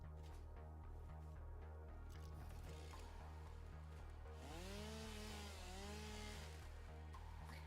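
Chainsaw running in the Satisfactory video game, a steady mechanical drone that holds through the clip, with rising and falling whine sweeps near the middle as it cuts, set against background game music.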